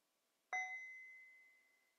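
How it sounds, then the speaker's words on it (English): A mindfulness bell in the Plum Village tradition is struck once after a moment of quiet. Its bright, clear tone rings out alone and fades slowly over the following seconds. "One more wake up sound in honor of the Plum Village tradition of Thich Nhat Hanh"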